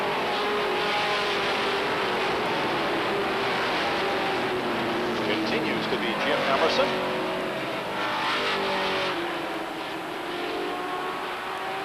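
Stock cars race at Beech Ridge Motor Speedway on a weekly racing night in 1992, their engines a steady, fairly loud roar throughout with a few passing surges, under continuous announcer commentary.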